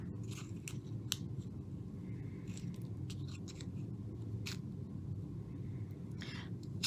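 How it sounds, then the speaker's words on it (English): Small scissors snip through a cardstock hippo cut out with a stamp-and-die set, trimming off a paw smudged with polish. Several brief, close crisp snips over a steady low hum. "I'm going to just cut that off before I stick her down."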